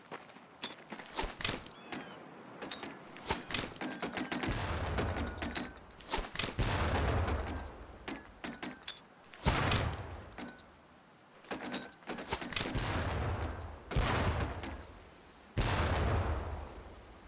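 Training grenades thrown at barrels during boot camp in Medal of Honor: Pacific Assault, heard as a series of sharp, booming blasts and thuds at irregular intervals, several close and loud with quieter gaps between.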